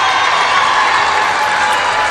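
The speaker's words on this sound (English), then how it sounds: "A round of applause from both these fan bases" Dense, sustained applause and crowd noise fill a gym as fans of both teams at a boys high school basketball championship clap together, loud and steady throughout with no clear voices standing out.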